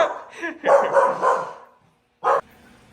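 A dog barks in a home, a cluster of rough barks and whimpery yips in the first second and a half, then one short sharp bark after a pause, near and loud.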